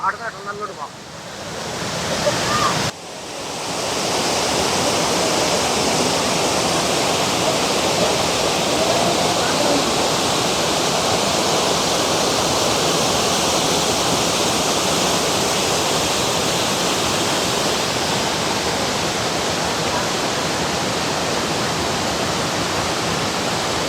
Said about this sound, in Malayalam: ആ വെള്ളച്ചാട്ടം കണ്ട്